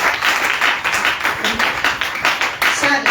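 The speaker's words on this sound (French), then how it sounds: "acclamons pour frère Kali" A church congregation applauding during a Sunday service, dense continuous clapping from many hands that swells and holds steady throughout.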